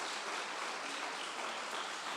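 A church congregation clapping their hands together as a dense, steady patter from many people at a moderate distance, continuous throughout with no voices.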